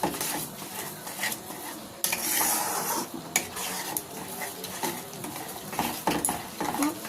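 Ripe mango pulp and a bowl of sugar are stirred together in a pot, with steady scraping and knocking of the spoon against metal over a low simmering sizzle, close and continuous.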